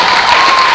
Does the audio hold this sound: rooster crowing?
no